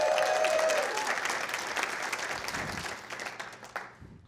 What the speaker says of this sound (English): They're clapping for themselves